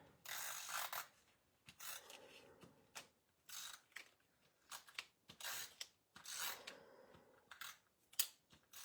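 An adhesive roll is applied to bookshelf cards, making short rasping, clicking bursts in an irregular rhythm. The bursts are quiet and close, with near silence between them.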